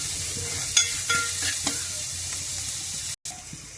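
Green chillies and onion pieces frying in oil in a pan with stirring, a steady soft sizzle broken by a few sharp scraping spoon strokes, close and alone without talk.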